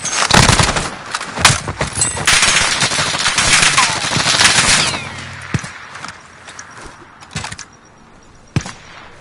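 Video game gunfire: dense, loud bursts of rapid automatic shots for about five seconds, then sparser single cracks and thuds fading into a quieter, noisy background.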